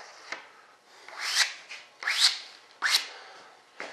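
Resin is scraped down by hand on an RC B-1 Bomber jet model. Four close, rhythmic rasping strokes repeat at steady intervals, with no other sound.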